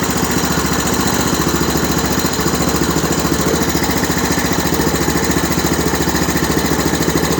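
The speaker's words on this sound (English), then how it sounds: "I'm going to go ahead and start the ATV up" Honda TRX-250 Recon ATV engine running close by at a steady idle, a loud, even, rapid chugging pulse that continues unchanged throughout, with no talking.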